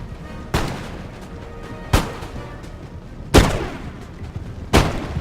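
Scots infantry volleys in the battle game Empire: Total War come as four loud, sharp booming bursts spaced about a second and a half apart, each with a short rumbling tail.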